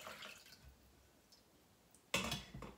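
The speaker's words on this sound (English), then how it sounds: "I'm just gonna go ahead and ladle some of this broth into the strainer." Chicken bone broth from a pressure cooker ladled into a strainer: a mostly quiet stretch of faint drips, then a short, louder splash and pour near the end.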